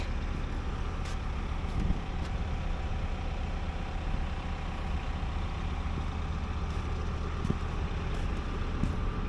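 A Bobcat T595 skid steer's engine rumbles steadily while plowing snow, a close, continuous low diesel drone with small shifts in load throughout.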